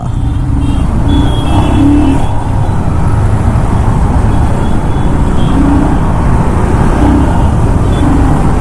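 Motorcycle accelerating through first and second gear on a road, a loud, steady engine and road roar heard close up from the rider's position, with no talking.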